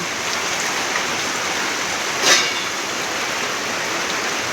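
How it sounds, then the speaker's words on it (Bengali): Steady heavy rain pouring down during a storm, a dense even hiss throughout with one brief louder splash or gust partway through, no voices. "এই যে দেখো কিরকম ঝড় বৃষ্টি হচ্ছে"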